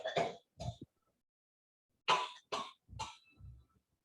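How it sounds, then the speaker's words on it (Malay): A person coughs in two close bursts, falls quiet for over a second, then lets out a string of three or four harsher coughs that fade into a brief throat clearing, sounding near and isolated. "Siapa batuk tu?"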